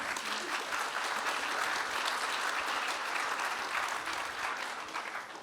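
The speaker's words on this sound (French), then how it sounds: "Voilà, on peut les applaudir." An audience at a talk on a new generation of auction house founders applauds steadily for several seconds, a dense even wash of clapping that fades slightly at the end.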